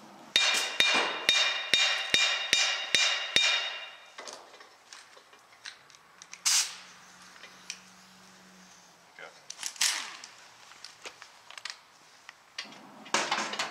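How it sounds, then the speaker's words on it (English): A quick run of about eight sharp hammer strikes rings out in a steady rhythm, then scattered knocks and clatter with some quiet voices. "I was taught how to use a hammer."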